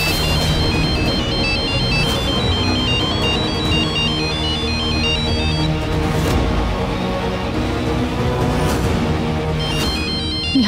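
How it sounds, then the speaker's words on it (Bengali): Phone ringtone playing a repeating electronic melody, loud and continuous over a low background bed for the whole stretch. "ফোনটা তোল, কেটে গেলে সমস্যা হবে।"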